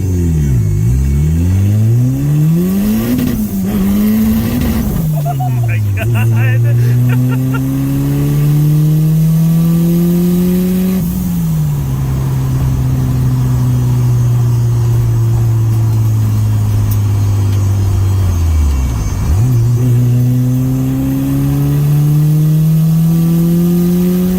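A turbo B18-swapped Honda engine on first startup idles loudly and revs repeatedly, pitch sweeping up and falling back in several rises, close and continuous throughout.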